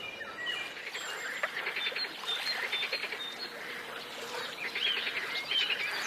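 Harsh, chattering song of a great reed warbler repeats in bursts over a soft wetland reed background along the Danube, moderately close, with no voices.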